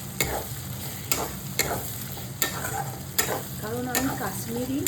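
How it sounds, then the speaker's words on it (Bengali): Green chillies fry in a browned spice masala in a pan, a steady close sizzle broken by about six sharp spatula scrapes and clacks as the mixture is stirred, with no talking. "দেখো মশলাটা আমার অনেকটা ভাজা হয়ে গেছে। এরপরে আমি কাঁচা লঙ্কা দিচ্ছি।"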